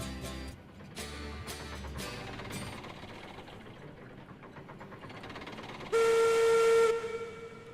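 Steam train whistle in the Railroad Online video game: a loud sustained tonal blast near the end over a rumbling, chugging locomotive bed with rhythmic bursts earlier.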